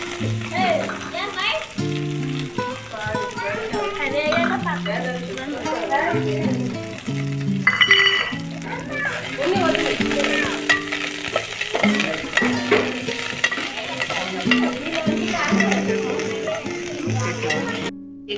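Curry leaves and coriander sizzle and crackle steadily in hot oil in a pan for tomato chutney, with stirring scrapes throughout while someone talks over the cooking.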